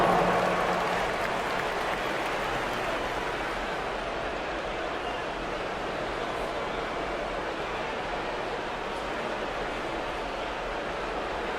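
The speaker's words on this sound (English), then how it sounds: "Give him a round of applause." A broad, steady wash of crowd applause and arena noise fills an NBA basketball game between the Washington Wizards and Toronto Raptors, continuous and fairly loud throughout.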